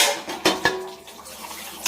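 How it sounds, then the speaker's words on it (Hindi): Dishes and cutlery clatter in a kitchen sink with running water, a few sharp clinks standing out over a steady wash, close and alone. "बर्तन मेरे सारे धुल गए"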